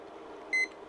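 A single short electronic beep sounds as a kitchen timer is started, a clear high tone lasting a fraction of a second over a quiet room.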